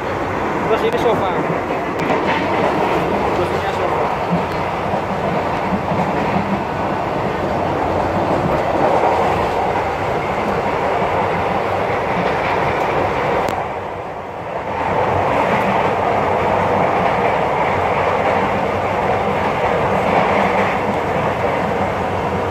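A KRL commuter train between Solo and Yogyakarta rolls along steadily with a continuous loud rumble and rhythmic clickety-clack of wheels on rails, briefly dipping before resuming.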